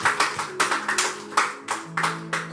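Church congregation at a Sunday service clapping in a brisk rhythmic burst, many hands striking together in quick repeated claps, fairly close and alone with a faint sustained organ or keyboard tone underneath.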